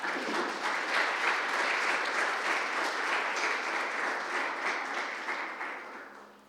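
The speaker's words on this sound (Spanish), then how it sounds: "Dale un aplauso a Él." A church congregation applauds together, a dense sustained wash of many hands clapping that holds steady before tapering off toward the end.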